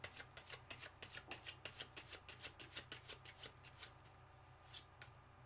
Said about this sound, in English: another shuffle, I mean